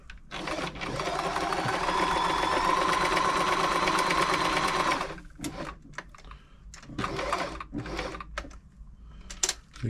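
A Frister & Rossmann 904 sewing machine running a straight stitch, a steady close mechanical whir lasting about five seconds, then stopping and giving way to scattered clicks and handling noises.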